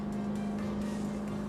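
Cranchi Endurance 27 motorboat engine pulling steadily as throttle rises and the hull planes, a constant low drone with hull and water rush over it, close and continuous with no talk.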